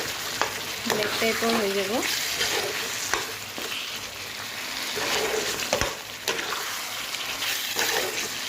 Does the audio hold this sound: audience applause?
no